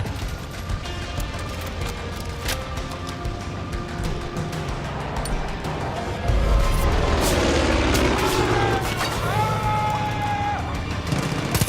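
A bomb goes off in Far Cry 5, a heavy low boom near the middle followed by rumbling debris and crashing game noise layered over busy background sound effects.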